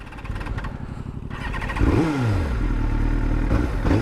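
A fuel-injected Yamaha R7 motorcycle engine cranks and catches, then revs up and settles into a loud, steady idle with a slight rise near the end.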